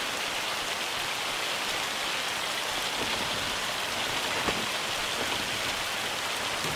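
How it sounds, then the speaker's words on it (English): Heavy rain mixed with hail in the farming video game Farming Simulator 25, a dense steady hiss of drops drumming on surfaces with scattered sharper ticks, no voices. "Like the hail icon has gone away, but it has not stopped hailing yet."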